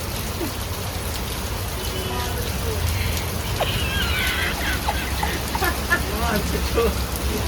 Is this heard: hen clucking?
no